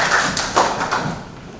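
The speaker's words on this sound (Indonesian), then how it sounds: "Baik, beri tepuk tangan" A classroom of students claps hands in a brief round of applause, with a few sharper claps near the start before the sound thins and fades.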